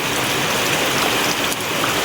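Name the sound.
heavy rain on rice fields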